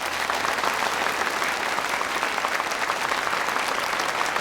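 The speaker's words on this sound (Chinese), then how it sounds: "掌声很热烈啊，" Sustained, warm applause from a crowd gathered for a military exercise review, steady dense clapping throughout at a fairly close, loud level with no talk over it.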